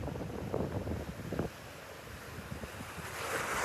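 Calm sea waves washing softly onto a beach under steady wind rumble, a continuous distant surf with no voices.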